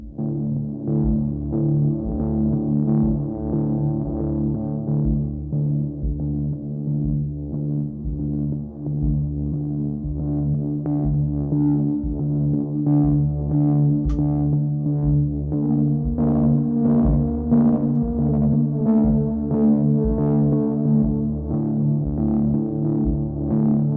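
A dense, droning brass texture from the Obsidian Brass sample library swells and pulses with a steady throbbing polyrhythm, sustained and full throughout.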